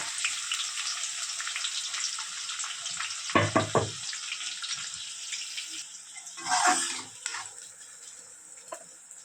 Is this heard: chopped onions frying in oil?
yes